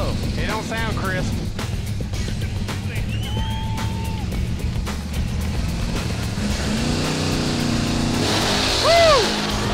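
Drag racing car engines roar and drone steadily, with rising revs and a louder burst near the end; people talk and shout over the noise.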